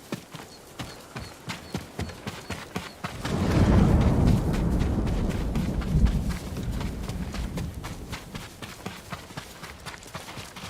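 Horse hooves in the Ghost of Tsushima video game, a rapid regular clip-clop of a running horse, close and clear, with a rumbling surge of low noise in the middle and no talk.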